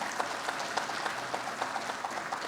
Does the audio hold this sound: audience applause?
yes